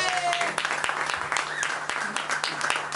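A live concert crowd applauds the sound engineer at the controls, steady dense clapping with cheering voices mixed in throughout.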